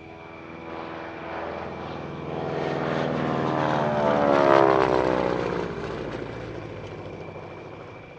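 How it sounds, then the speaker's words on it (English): A 1936 Lockheed Electra Junior, a small twin-propeller airplane, flying past at an airshow, its engine drone building to a loud peak mid-pass and then fading as it moves away. "the Lockheed Electra Jr."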